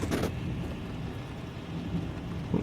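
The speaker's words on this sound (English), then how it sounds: "Now we're getting some thunder." Distant thunder rumbles low and long during a storm, rolling under a steady wash of rain and wind, with a sharper burst at the very start.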